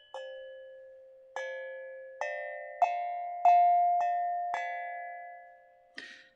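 Metal healing instrument, likely a singing-bowl-style chime, struck six times at roughly even intervals, each strike ringing with a sustained bright tone that slowly decays, followed by a softer scraping touch at the end.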